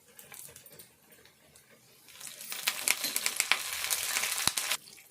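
Curry leaves dropped into hot oil for a pickle, a quiet background that bursts midway into loud, crackling sizzling and spitting which holds steady before cutting off near the end.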